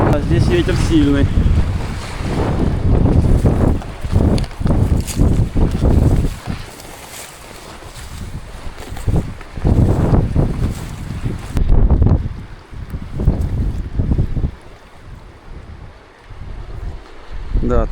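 Strong wind gusts buffet the microphone on a taiga river island in the far north, a loud, rough rumble that rises and falls in bursts with faint water sounds beneath.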